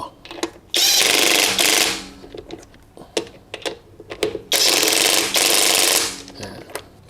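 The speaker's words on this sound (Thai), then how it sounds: "ไขเข้านะครับ จะได้ไม่ทำร้ายตัวน็อตของเรานะครับ" A MASARU SCDW165 cordless impact wrench on its lowest setting tightens a nut in two loud rattling bursts, each lasting about a second, with scattered clicks and handling noises between them.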